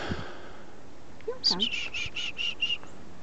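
A chickadee at a park gives a short call series, about seven clear, evenly spaced high whistled notes following a brief rising chirp, near and moderately loud over quiet outdoor background.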